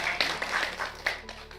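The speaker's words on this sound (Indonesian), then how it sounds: "Beri tepuk tangan buat Irfan." Brief applause from a classroom of students for a classmate, a short burst of light, close clapping filling the room without talk.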